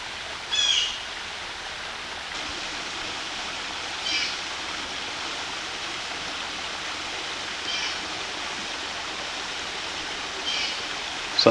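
Fall Creek at Chimney Rock Park runs low during a drought, giving a steady broad rushing wash of water over bare rock, with a few faint bird chirps above it.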